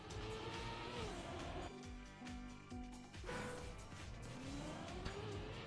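A race car in the Trackmania video game accelerating flat out, its engine whine climbing through gears in rising sweeps with brief dips, loud and continuous from start to end.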